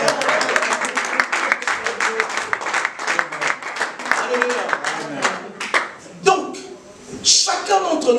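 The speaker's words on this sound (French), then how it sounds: "Est-ce qu'on peut acclamer le Seigneur?" A church congregation claps in sustained, dense applause that fades into scattered claps and shuffling near the end, with voices faintly beneath.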